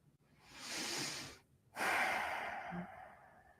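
Slow meditative breathing close up: a long soft inhale, a brief pause, then a fuller, louder exhale that tapers off, with no talking.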